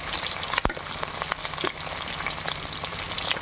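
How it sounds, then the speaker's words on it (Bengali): Bata fish fry in hot oil for bata macher jhol, making a constant close crackling sizzle with scattered pops and one sharp knock near the start. "একে একে সব মাছগুলো ভেজে নেব"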